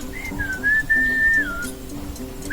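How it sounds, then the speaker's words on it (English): A single sustained human whistle rises, holds a steady pitch, then dips, a call to someone in Wahkhen village, heard clearly over quiet background hum. "the whistling sound was similar"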